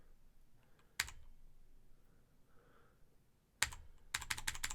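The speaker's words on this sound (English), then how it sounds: "And then just start typing landmarks." Bursts of rapid typing on a computer keyboard, close and crisp, with a short cluster of keystrokes, a pause of near silence, then a denser run of clicking keys toward the end.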